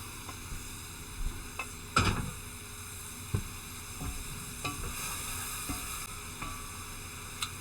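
Vegetables and meat for Louisiana dirty rice frying in a pan, a steady soft sizzle with occasional louder stirring scrapes and clinks, close and quiet.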